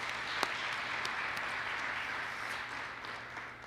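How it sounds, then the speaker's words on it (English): Audience applause at an educators' awards and recognition banquet, a steady wash of many hands clapping, fairly faint and distant, with no speech over it. "let's give them a round of applause"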